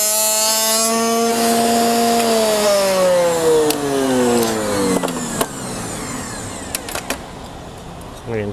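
A router fitted with a box joint bit makes its cut as a loud motor whine slides steadily down in pitch, with sharp clicks and knocks near the end.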